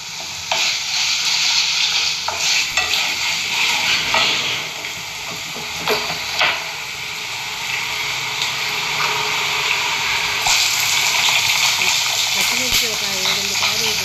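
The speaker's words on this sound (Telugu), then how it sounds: "ఒక తాలింపు కొద్దిసేపు వేగనివ్వాలి" Whole spices and dried red chillies for a tempering sizzle and crackle steadily in hot oil in a pan in a home kitchen, with intermittent stirring and a voice speaking over it.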